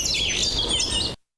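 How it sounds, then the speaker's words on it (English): A European blackbird sings a fluid, warbling phrase of varied whistled notes, close and clear over a faint background hiss, ending abruptly after about a second. "That is obviously the European blackbird."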